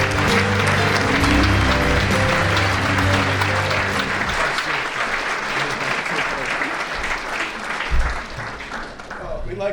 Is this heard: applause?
yes